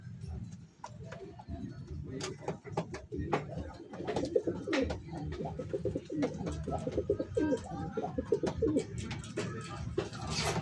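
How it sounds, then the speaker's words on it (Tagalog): Pigeons of finisher racing stock in a small backyard loft, with soft layered cooing and bird calls over a dense, busy background of rustling and movement, fairly close and steady throughout. "maganda mga ibon."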